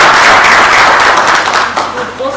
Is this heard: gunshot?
no